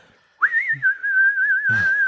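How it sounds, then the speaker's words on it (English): A person whistling a single sustained, wavering tone, clear and close, starting after a short silence and holding steady to the end, with a brief rustle near the close. "I didn't know you could whistle so well"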